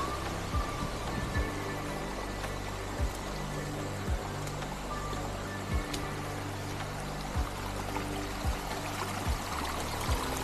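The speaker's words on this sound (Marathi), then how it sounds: "अनेक जागे ठिकाणावरून धबधबे पडतात खाली." Waterfalls pour down in the Andharban jungle, a steady broad rushing of water heard from a distance, with faint periodic thumps underneath.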